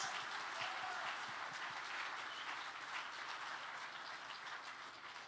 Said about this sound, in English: let's give a very, very big round of applause